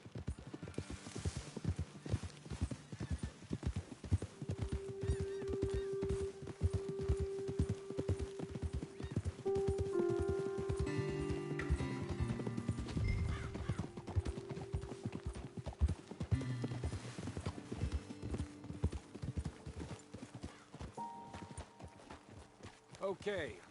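Horses' hooves clip-clop steadily in Red Dead Redemption 2, with a horse neighing and whinnying along the way, while voices talk over the riding.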